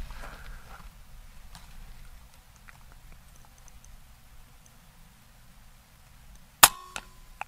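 A single sharp, loud crack from an FX Wildcat MK III .22 air rifle firing a pellet, arriving after several seconds of quiet outdoor ambience and followed by a faint click.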